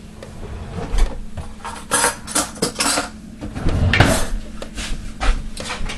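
A kitchen drawer slides open and utensils rattle as a spoon is fished out, several close woody knocks and clinks in an uneven run, with no talking.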